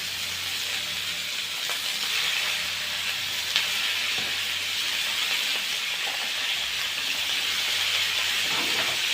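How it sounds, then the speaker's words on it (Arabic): Beef sears in hot oil in a pan with a continuous, close, hissing sizzle, broken by a few faint pops and clicks, with no talking for about nine seconds. "اللحمه بقى وهي ايه بتشمط كده او بتتحمر"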